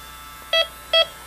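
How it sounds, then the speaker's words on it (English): A Yellow Jacket Accuprobe refrigerant leak detector sounds its audible alarm, two short electronic beeps about half a second apart, clear and close over low background hum. "an audible alarm and the light will flash, as well as the smart alarm"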